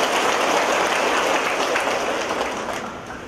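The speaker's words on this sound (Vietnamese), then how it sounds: "Một tràng pháo tay thật lớn cho anh chị em." A congregation applauds in a large church at a Vietnamese Catholic service: a dense, steady wash of clapping that fills the space, then slowly tapers off toward the end.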